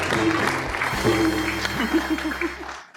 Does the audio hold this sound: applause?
yes